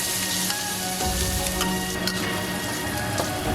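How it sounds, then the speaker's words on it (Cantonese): Chinese sausage and cured pork frying in a hot wok with a little oil, a dense, even sizzle close up with faint stirring ticks and no voices. "爆香臘腸同臘肉。"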